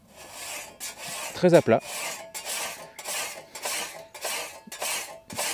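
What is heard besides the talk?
sharpening a scythe blade with a metal file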